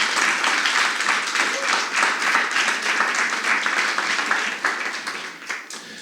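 A church congregation applauds during a Christmas sermon, a loud, sustained, even roar of many people clapping that tapers slightly near the end, with faint voices underneath.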